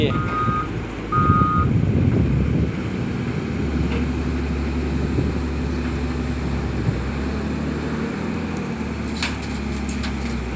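A Volvo loader works beside a dump truck, its reversing alarm beeping in short repeated tones over a loud, constant diesel engine rumble.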